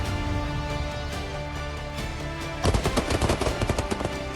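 A Tavor X-95 rifle of Indian special forces fires a rapid burst of sharp shots over a constant droning background.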